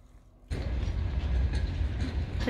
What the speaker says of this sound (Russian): Дорога закрыта, едет поезд. И он никуда не спешит. Еле катится.